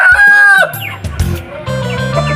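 A rooster crows loudly nearby while Rhode Island Red and native crossbreed hens cluck in short, choppy bursts around it, close and clear with no talking.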